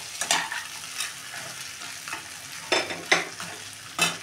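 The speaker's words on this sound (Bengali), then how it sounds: "মাথাটা খুব ভালো করে ভাজতে হবে, লাল লাল করে ভাজতে হবে।" Fish head frying in spiced oil in a home kitchen pan for muger dal, with a steady sizzle broken by repeated stirring scrapes and spatula knocks, close and alone.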